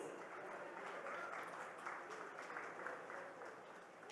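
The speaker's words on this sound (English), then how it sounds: "So a round of applause for all of you," Audience applause for a panel at a business talk event, a steady, even wash of many hands clapping that holds for several seconds at moderate distance.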